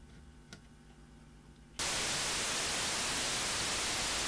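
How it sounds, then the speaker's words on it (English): Synthesizer white noise from an ETI 4600 synthesiser runs through its equalizer module; after a quiet low hum, a loud, steady broadband hiss switches on abruptly and holds without change. "I'll just put some white noise through and just show you those controls working"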